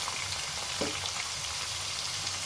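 Two large potatoes with salt and turmeric frying in oil, a steady close crackling sizzle with a few soft pops, no talking.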